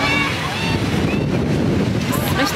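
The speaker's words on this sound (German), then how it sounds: "Hier fängt es jetzt an, richtig windig zu werden." Strong wind by the sea in Greece roars steadily and buffets the microphone, a loud, unbroken rush with faint tonal sounds drifting through it.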